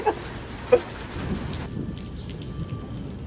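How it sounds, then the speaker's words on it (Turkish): Heavy rain falling during a street-food outing in Mexico, a steady broadband hiss at moderate level with a couple of sharp drips or taps early on. "Çok yağmur ya."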